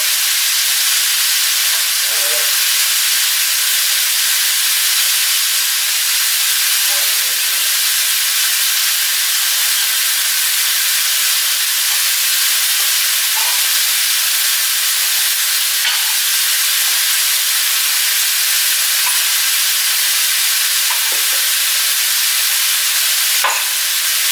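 Meat and vegetables stir-fried in a wok give a steady, loud sizzle and hiss throughout, broken by a few scraping stirs of the utensil against the metal.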